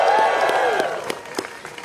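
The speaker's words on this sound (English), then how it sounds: "Let's give them a round of applause" Applause from an audience at a New York City transit announcement, a dense roar of clapping that starts loud and fades within two seconds, with a few scattered late claps at the end.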